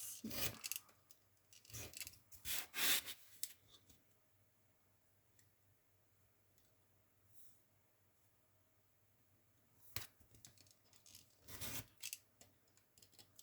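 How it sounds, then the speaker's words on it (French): A cutter knife slicing through paper in short scraping bursts, a cluster of quick rasping strokes early on, then a quiet pause before a few more cuts near the end, close and faint. "je coupe avec mon cutter ici"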